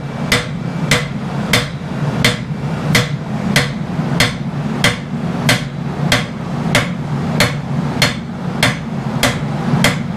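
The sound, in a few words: hammer striking hot steel while blacksmithing a blade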